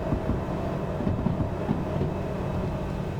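A freight train in the Derail Valley simulator rolls downhill under train and dynamic brakes, giving a steady low rumble with faint rail clatter throughout.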